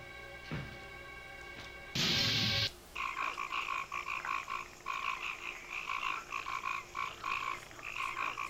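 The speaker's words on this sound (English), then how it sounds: "I love the frogs." Frogs croak in a steady, rhythmic chorus in the 3DO video game Night Trap, with a brief crashing burst near the start and no voices.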